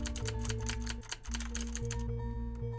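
Rapid computer keyboard key presses from someone playing an old shooting game, a steady stream of clicks running continuously over game music and tones.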